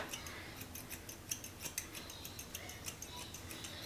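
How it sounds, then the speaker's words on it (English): Hair-cutting scissors snip repeatedly through the back section of hair at home, a close, crisp run of quick metallic cuts in a steady irregular rhythm with no talking. "So this is why I love these scissors. They just kind of just shear it out, take off weight."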